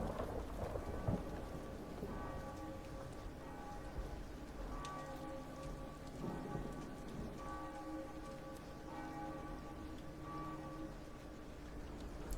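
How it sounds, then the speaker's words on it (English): Steady rain with low rumbling thunder in a scene from the horror movie The Nun, faint and continuous under a low musical drone, with no speech. "Sounds like it's raining, but she's not getting wet."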